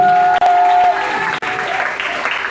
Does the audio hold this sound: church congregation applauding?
yes